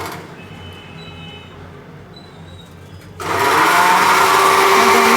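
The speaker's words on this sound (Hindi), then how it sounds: "मेरा बथुआ अच्छे से पिस गया है मिक्सी में ही" Mixer grinder grinding bathua greens: a quieter background hum first, then the motor kicks in and whirs loudly and steadily to the end.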